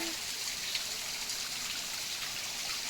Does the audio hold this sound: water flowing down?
yes